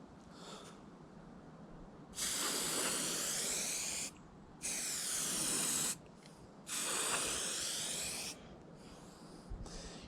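Spray can bursts applying light coats of paint to windscreen wiper arms: three sustained hissing sprays of about two seconds each, close and fairly loud, separated by short pauses.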